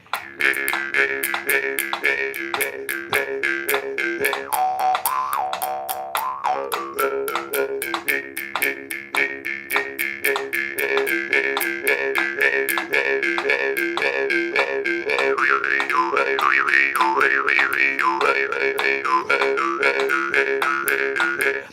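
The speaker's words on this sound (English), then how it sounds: "this is called a gangong" A gangong jaw harp is plucked in a rapid, steady twanging rhythm for about twenty seconds, loud and close, its buzzing tones shifting in pitch with no talking.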